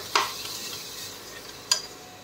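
Masala of whole spices, ginger garlic paste and tomato puree cooking in a pan for biryani, heard as a steady soft sizzle with two brief stirring scrapes of a utensil against the pan, close and fairly quiet, no talking.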